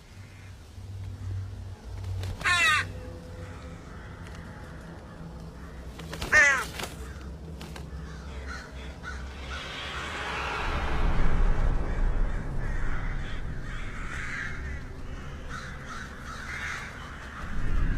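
A flock of many crows caws outdoors, with sharp harsh calls standing out around a few moments over a quiet background and a faint passing car swell.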